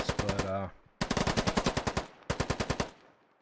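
Machine-gun fire in the tactical shooter Squad: three short automatic bursts of rapid, evenly spaced shots, fairly close and sharp, each dying off before the next.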